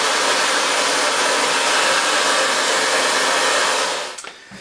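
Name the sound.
hair dryer melting wax on a motorcycle jacket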